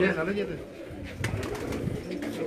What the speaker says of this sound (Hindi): लाला जी ये कबूतर देखिए